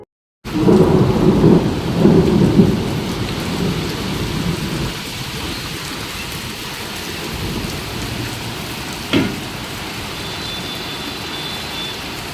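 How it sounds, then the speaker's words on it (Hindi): Heavy spring rain pours down steadily with thunder rumbling loudly near the start and a sharp crack later, the downpour a constant wash of noise throughout, no voices. "ये करीब 7:30 बजे की क्लिप है, जब बहुत तेज़ बारिश शुरू हो गई थी।"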